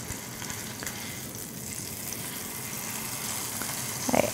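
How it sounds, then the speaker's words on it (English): Beef pot roast searing against a hot pan, heard as a continuous even sizzle that stays close and steady, with a brief louder burst near the end and no talking. "I'm going to sear that one more flat edge on my roast"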